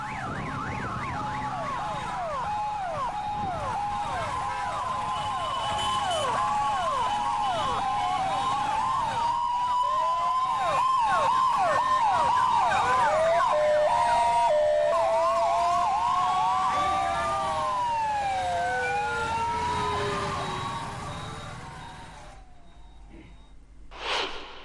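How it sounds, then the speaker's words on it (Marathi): Several ambulance sirens wail together in a funeral procession in Amravati, overlapping rising and falling tones that stay loud and continuous before fading near the end. "अनेक रुग्णवाहिका चालक हे सायरन वाजवत निघाल्यामुळे अमरावतीकरांमध्ये भीतीचं वातावरण होतं."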